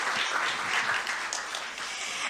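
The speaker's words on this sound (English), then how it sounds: "another round of applause for all three scholarship winners." An audience at an awards event applauds scholarship winners with a dense, even wash of clapping that holds steady and fairly loud for a couple of seconds.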